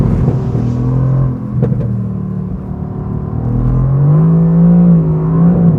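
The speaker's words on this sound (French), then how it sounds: "première accélération au volant de l'AMG GT-R" A Mercedes-AMG GT-R with a 585-horsepower engine accelerates hard, its loud, deep exhaust note climbing steadily in pitch as the revs build, close and continuous with no talking.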